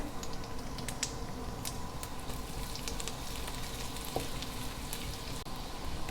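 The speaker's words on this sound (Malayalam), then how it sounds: "ഇഞ്ചി ഒന്ന് നമുക്ക് നന്നായിട്ട് വഴറ്റിയെടുക്കാം" Chopped ginger sautés in a pan with a steady, close, even sizzle, dotted with small crackles and light ticks of a spoon, unbroken throughout and without any voices.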